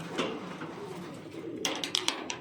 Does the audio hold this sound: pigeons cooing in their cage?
yes